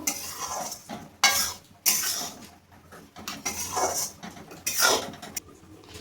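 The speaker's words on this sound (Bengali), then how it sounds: "এবার চিনিটা দিয়ে আমি ভালোভাবে আবার নেড়ে নেব।" A spoon scrapes and stirs besan laddu mixture with sugar in a pan, giving repeated close scraping strokes in an uneven rhythm with faint frying sizzle underneath.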